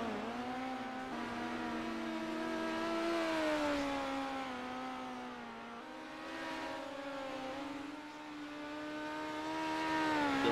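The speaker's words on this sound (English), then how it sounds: "Still pre-race practice here with the Slideways Karting Center Dirt Midgets at Volusia Speedway" Dirt midget race cars running pre-race practice laps at Volusia Speedway, a steady high engine drone that rises and falls in pitch as the cars circle, fairly distant and continuous throughout.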